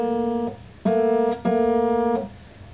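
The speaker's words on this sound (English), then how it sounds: "Dissonance is a combination of musical notes or tones that are very close together on the musical scale" A dissonant chord of closely spaced musical notes, sustained in three separate blocks with brief gaps between, loud and clear with no talking.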